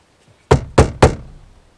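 Three firm knocks in quick succession as a Vauxhall Corsa D door card is tapped into place by hand, close and clear with no talk.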